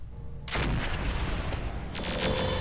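Rockets and missiles slam into a target in Roguetech BattleTech, a sudden loud volley of booming impacts after a brief quiet start, with a second burst of blasts near the end.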